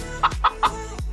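A chicken clucking sound effect set as a phone ringtone: three short, bright, evenly spaced clucks, close and clear over a low steady hum.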